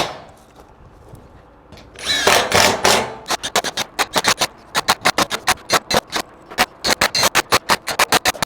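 A power tool drives screws through steel siding with neoprene washers on a post frame workshop, opening with a sustained burst, then a long run of short, evenly spaced loud bursts close by.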